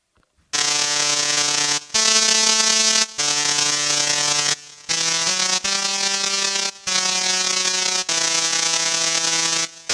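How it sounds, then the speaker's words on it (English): Buzzing, electric musical tones from a musical Tesla coil's electricity arcs crackle out in a sequence of sustained notes with short gaps, loud and harsh like a sawtooth synth. "enabling musical notes to be played from arcs of electricity that sound like this"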